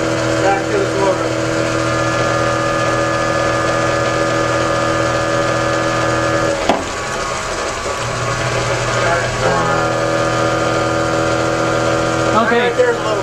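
A self-running 2000 watt fuelless generator's motor hums steadily and close, with strong tonal bands that dip briefly around the middle, and a short clatter comes near the end.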